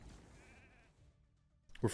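A short, wavering sheep bleat comes from a sheep skill in a live arena battle video game, followed by silence and then a sudden loud impact at the end.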